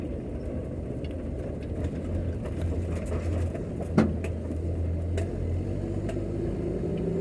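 Steady engine and road rumble from inside a work van driving smoothly on tires, a continuous low drone with faint rattles and a single brief knock partway through.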